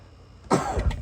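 A short burst of coughing, a couple of rough coughs close by, with no talking around them.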